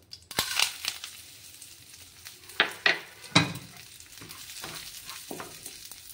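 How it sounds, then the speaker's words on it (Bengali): Gobindobhog rice fries in ghee in a wok, giving a steady sizzle broken by several sharp scraping stir strokes, loud and close with no voices. "এবার এটা আমি ভেজে নেব।"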